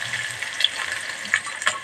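Chopped small onions frying in hot oil in a pan, a steady soft sizzle with faint crackles and light stirring, no talk over it.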